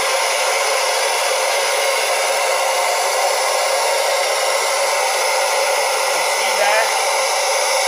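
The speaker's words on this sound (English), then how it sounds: "We're going to see when I turn this unit on." A Translas 7XE MIG welding fume extraction unit runs with a steady, loud, hissing suction roar, like a hair dryer, unchanging throughout the take and without speech.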